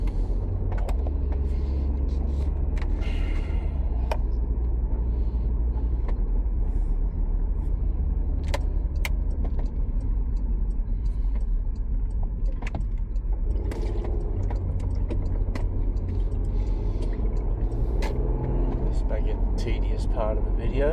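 A car on an easy, ordinary morning drive, its steady low engine and road rumble continuous throughout, with occasional small rattles and clicks inside the cabin.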